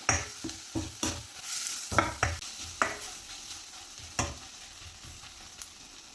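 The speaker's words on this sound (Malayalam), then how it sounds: "എല്ലാം കൂടി ഇട്ടൊന്ന് വഴറ്റി കൊടുക്കാം പൊടികളുടെ പച്ചമണം ഒന്ന് മാറി വരട്ടെ" Spice powders sautéing in a pan for a drumstick and potato curry, with a spoon scraping and stirring in quick bursts over a steady background sizzle, close and fairly loud.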